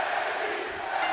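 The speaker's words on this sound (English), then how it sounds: "The crowd's alive" Steady crowd roar in the WWE 2K23 wrestling game, a dense sustained wash of arena noise at the start of an NXT match, with no speech.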